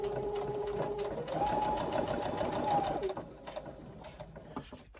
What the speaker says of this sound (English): you will stitch around that seam, leaving a 5 inch opening at the bottom